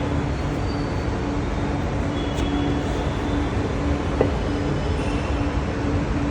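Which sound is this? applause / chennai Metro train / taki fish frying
chennai Metro train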